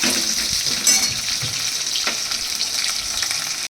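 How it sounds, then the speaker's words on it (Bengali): Nigella and cumin seeds sizzle steadily in hot oil for a fish curry, a loud continuous crackling hiss with a few sharper pops, no voices. "কালো জিরে আর জিরে ফোড়ন দিয়েছি।"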